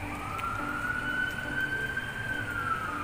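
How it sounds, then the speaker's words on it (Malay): An ambulance siren on a road outside during a stream, heard as a single rising and falling wail, moderately distant and steady, over a low rumbling background of traffic noise. "makin kuat ambulance ni lalu."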